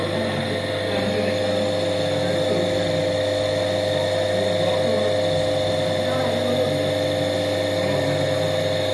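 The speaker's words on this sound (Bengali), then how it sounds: "মোটর অন করছে।" A three-phase induction motor, rated around 220 volts, runs with no load, giving a steady, continuous electrical hum with strong tonal lines and a faint whine, close and unchanging throughout while the voice stays quiet.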